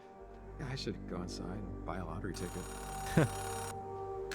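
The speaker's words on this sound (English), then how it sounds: "A payphone ringing in the wild?" A payphone rings in a video game, its steady electronic bell tone rising over a voice partway through and holding for about a second and a half before cutting off.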